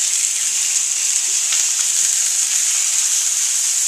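Chicken in a frying pan sizzles with an even, loud, unbroken hiss, close up and without speech.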